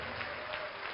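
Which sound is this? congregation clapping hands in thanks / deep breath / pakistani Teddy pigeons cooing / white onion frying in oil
congregation clapping hands in thanks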